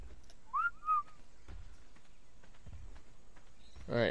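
A character whistles in the video game ARK: Survival Evolved, giving two short rising and falling whistle notes early on, followed by faint thuds and a louder burst of a whistle-like call at the end.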